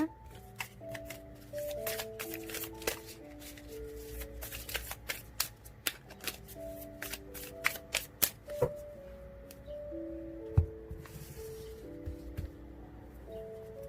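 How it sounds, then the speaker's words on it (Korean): Tarot cards are shuffled and drawn in a steady stream of crisp riffles, flicks and soft slaps, close and clear over gentle background music with sustained tones. "추가 카드를 한 번 더 뽑아보도록 하겠습니다"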